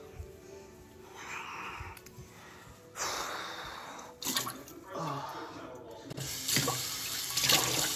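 A tap runs water into a sink in gushes that start and stop several times, splashing loudly with short pauses between.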